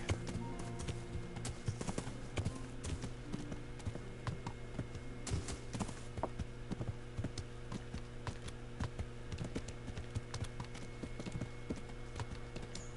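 Horse hooves clip-clop in a steady, continuous rhythm in the video game Kingdom Come: Deliverance, over a constant low mechanical drone, with no talking.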